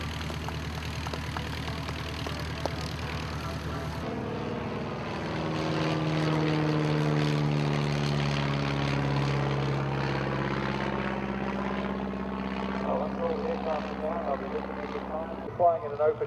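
An open-cockpit light propeller plane in an air race drones steadily, its engine note swelling and shifting pitch as it passes, loud and sustained with a faint voice in the background.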